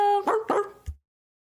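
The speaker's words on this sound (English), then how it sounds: "Oh, I heard you bark back." A dog gives two quick barks close by, followed by a short low sound before the clip falls silent.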